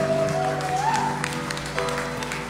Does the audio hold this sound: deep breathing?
no